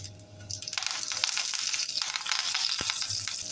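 Fresh curry leaves hit hot oil already holding mustard seeds and cumin for a Kerala-style sambar, setting off a sudden loud, close sizzle that crackles steadily for several seconds.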